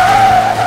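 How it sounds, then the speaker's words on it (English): A cartoon race car speeds and skids, a single loud, sustained tire squeal at close range that holds steady for under a second before cutting off. "Robot Funling told Driver Funling how to drive faster, and the next time he got in his car"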